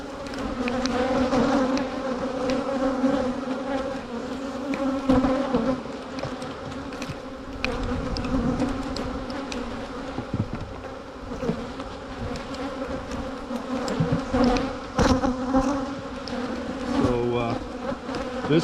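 Honey bees buzz steadily and loudly around an open hive during a spring colony split, a dense continuous drone close by with no talk over it.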